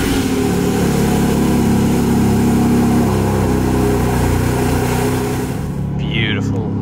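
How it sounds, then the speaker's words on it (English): A Porsche 718 Spyder RS engine starts for the first time and settles into a loud, deep, rumbling idle that holds steady before cutting off sharply. "First start, Spyder RS."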